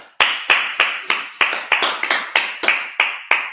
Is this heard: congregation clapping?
yes